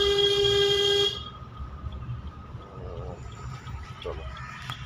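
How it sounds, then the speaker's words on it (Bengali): Car horn blaring continuously for about a second during a driving lesson, loud and close, followed by engine and road noise from inside the moving car. "হর্ন মারো"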